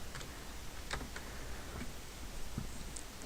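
Arrow keys on a computer keyboard are tapped in an Ubuntu terminal session, giving a few sparse, soft, quiet clicks over a low background hiss.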